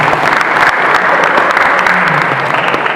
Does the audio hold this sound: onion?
no